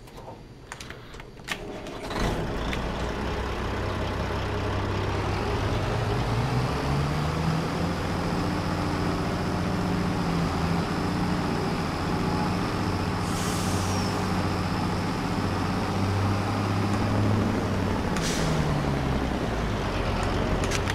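Case IH Magnum 340-400 series tractor engine in Farming Simulator 22 cranks over at about two seconds, then holds a loud, steady idle with a faint whine and brief revs, running alone with no talk.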